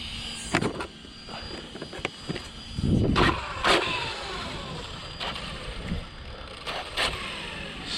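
A small electric Traxxas XT2e RC car with a new motor whines and surges in short bursts of acceleration on a speed run, with thin high-pitched motor tones and scattered outdoor noise.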